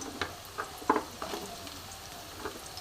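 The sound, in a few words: diced vegetables, carrots and papaya, frying in a pan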